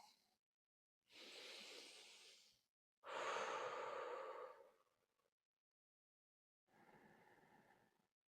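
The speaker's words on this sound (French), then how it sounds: "Écoutez ma respiration." A person breathing slowly and audibly, three long, close breaths separated by silence, each a soft airy rush in and out with no talk.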